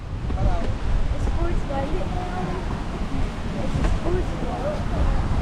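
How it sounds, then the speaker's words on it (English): A strong seaside breeze in a Philippine province buffets the microphone as a continuous low roar that stays loud for the whole stretch. Faint, indistinct voices may sit underneath. "Nice and breezy here today."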